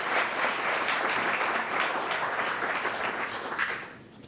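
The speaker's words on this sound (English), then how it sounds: "can we give an applaud to Miss Aubrey?" Warm audience applause for a scholarship recipient at a Martin Luther King Jr. reception, a continuous crowd of clapping hands that holds steady then fades out near the end.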